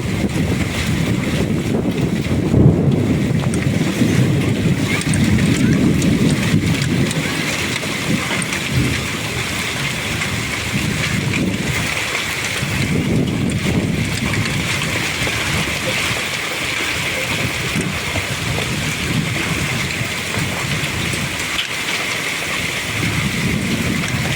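Hail and rain beat down on a terrace garden in a wind storm, a long, dense, steady roar with gusty swells in loudness and no voices.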